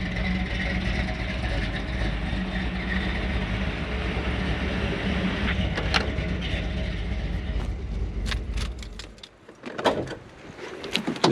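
A 460 engine fitted with an EFI Guys stage 2 cam and headers, in an older vehicle, idles steadily with a low, rough rumble for most of the time, then cuts off into a few clunks and rattles.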